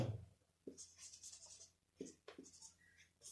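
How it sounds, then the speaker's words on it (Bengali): Pencil scratching across paper while subtraction is worked out for a fourth-grade maths problem, coming in short, quiet bursts of strokes with pauses between them, close to the mic. "এবার লিখব যে যাত্রী নেমে গেল"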